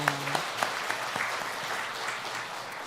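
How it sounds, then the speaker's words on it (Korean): A church congregation gives a short round of applause for a choir during a Sunday worship service; a few sharp claps stand out at first, then a softer, quieter patter fills the rest. "박수 한번 하겠습니다"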